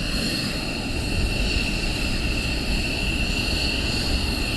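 B-52 bomber engines at RAF Lakenheath give off a steady, moderately loud jet drone with sustained high whining tones over a rumbling low end, heard alone.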